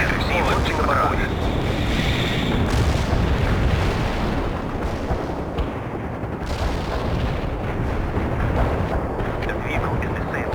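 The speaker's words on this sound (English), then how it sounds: "Launching the barrage." Artillery barrage in the World in Conflict video game: a dense, continuous rumble of distant shell bursts and booms that fills the whole stretch at steady loudness, with radio-style voices and battle chatter over it.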